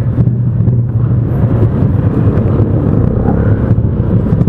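Road traffic on Luzon Avenue during the after-school rush, heard from inside a vehicle as a loud, continuous low rumble of engines with some wind buffeting and no voices.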